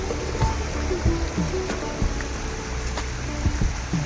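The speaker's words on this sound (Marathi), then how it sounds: "पाणी बघू शकता किती फास्ट आहे." Fast-flowing water near the sea at Murudeshwar rushes steadily, with scattered splashes and sharp clicks breaking through the close, continuous wash.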